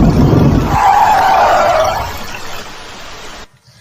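Tires screech in one long squeal as a car's brakes are slammed, loud and close over rumbling road noise, fading out before a sudden cut to near silence.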